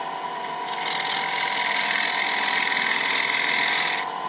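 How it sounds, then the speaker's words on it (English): A handheld scraper cuts an ash wood bowl on a spinning lathe, a steady, close, continuous scraping whir with a bright hiss that rises after the first second and stops abruptly near the end. "I'm going in with a scraper"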